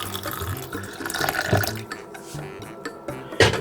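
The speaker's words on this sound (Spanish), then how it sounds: "usted echa un poquito de agua con vinagre" Water with vinegar poured onto an algae-covered surface while cleaning, a running, splashing trickle at close range with a brief louder gush near the end, no talk over it.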